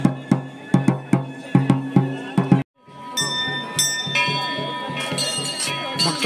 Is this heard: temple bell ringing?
yes